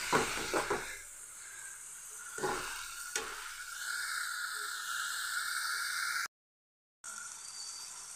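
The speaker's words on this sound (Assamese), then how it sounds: "এইখিনি অলপ ভাজি ল'ম" Steady sizzling of lai xaak (mustard greens) frying in a pan, with a few stirring scrapes early on and a short silent break near the end.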